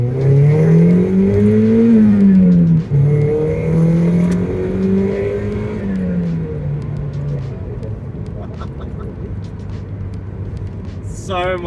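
A Mazda MX-5 fitted with a MazdaSpeed competition engine mount, driven with gear changes: a loud, close engine drone that rises and dips in pitch through shifts, then settles into a lower rumble.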